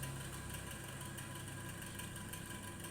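A compressor in a one-door refrigerator runs steadily after being switched on, giving a continuous close, even hum with a low mechanical drone and no voices.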